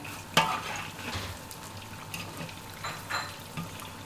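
Sweet potato nian gao frying in oil, a soft steady sizzle with occasional louder crackles and pops, close but fairly quiet, with no talking.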